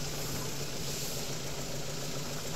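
A car engine idles steadily with a continuous rattling, rough buzz layered over the running note, close and constant throughout, with no pauses.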